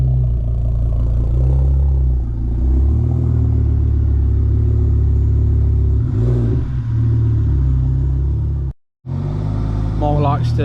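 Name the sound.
Ford Focus ST Mk2 car driving into the workshop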